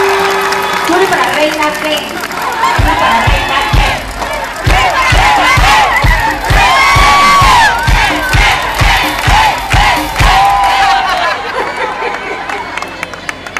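A large crowd at a pop concert in Tampico cheers, shouts and claps rhythmically in loud unison, while a singer talks over the roar and whoops ring out above it.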